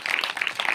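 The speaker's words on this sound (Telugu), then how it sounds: "చప్పట్లు కొట్టండి ఆయన గట్టిగా" Congregation clapping at a church service, a brief, fairly close burst of scattered hand claps from a crowd with no talk over it.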